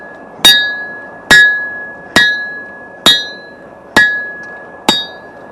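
A hammer forges a steel blade blank, striking six times in a steady rhythm, each blow a sharp, loud, close metallic clang with a ringing tone that decays before the next hit.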